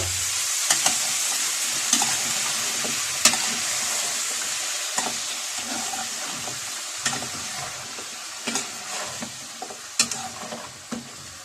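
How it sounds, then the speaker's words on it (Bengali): Eggplant sizzles and fries in hot oil, a dense continuous hiss broken by repeated sharp clinks and scrapes of stirring, with no voices. "বেগুন একসাথে তেলের মধ্যে দিয়ে দিই গরম তেল"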